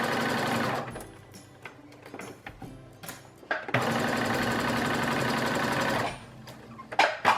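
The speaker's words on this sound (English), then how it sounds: "go to the sewing machine and we're gonna sew around here and here up" Sewing machine stitching a fabric face mask with a quarter-inch seam allowance and back stitching, running in loud bursts of rapid needle whirring, stopping and starting with short pauses, then a long steady run, close up.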